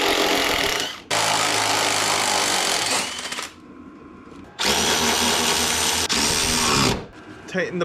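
A power tool tightens the parking brake braces on an Autozam AZ-1 during rear sway bar work, running in two long, loud, steady whirring bursts separated by a short quieter pause.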